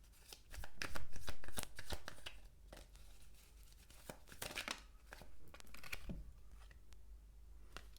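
Tarot cards being shuffled by hand before a reading: rapid riffling bursts and soft papery slides in close succession, near and fairly loud, with no talking.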